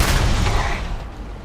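Weapon fire and an explosion in the video game Starfield, a loud burst of blasts and rumble that quickly fades out.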